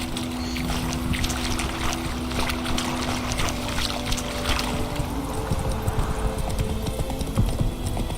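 Rhythmic horse hooves clip-clopping steadily in the video game The Witcher 3, over a bed of ambient background noise, with no talking.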